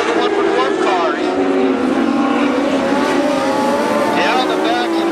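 Dwarf cars racing on the oval at Barona Speedway, a loud continuous roar of several engines at close range with rising and falling pitch as they pass, under an announcer's steady race commentary.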